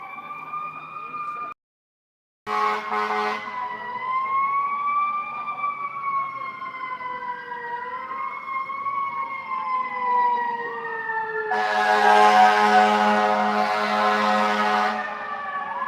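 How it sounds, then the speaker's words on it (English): A fire truck siren wails past outside a courthouse, loud and near, rising and falling in overlapping tones. A brief cut interrupts it, and a harsh blaring horn burst comes near the end. There is no talking. "Where is that fire truck trying to get to?"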